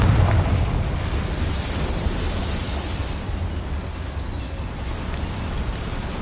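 A Confringo fire spell blasting in Hogwarts Legacy, a loud dense explosive roar with a heavy low rumble at the start that settles into a sustained wash of noise over several seconds, with no talk.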